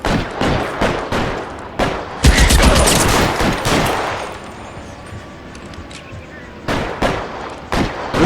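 L.A. Noire shootout gunfire cracks out in loud repeated shots and short bursts, thinning to isolated bangs in the middle before more shots at the end, with a voice speaking in between.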